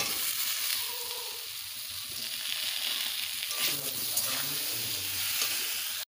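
Fried potatoes going into spices sizzling in oil in a pan for a katla fish curry, a dense close sizzle with scraping and clattering as they are turned in, steady and unbroken, no talk.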